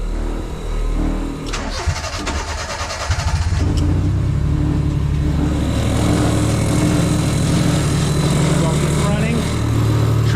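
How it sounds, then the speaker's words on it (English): A Honda Acty mini truck engine cranks briefly, catches and settles into a steady, loud idle close by, with the compressor of a newly fitted air bag suspension system audible in the mix. "I'm gonna start the truck."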